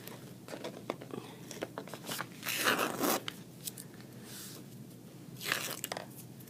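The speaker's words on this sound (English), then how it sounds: "You might have to put your hand under your paper to rip it off." Masking tape is ripped off paper from a painted birch tree scene, giving a few short, crackly tearing bursts, the loudest near the middle and another toward the end, close up and without talk.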